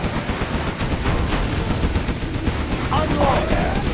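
Rapid gunfire from units in Command & Conquer Generals Zero Hour, a China versus USA battle, with dense bursts of shots over rumbling combat noise and a brief unit voice line near the end.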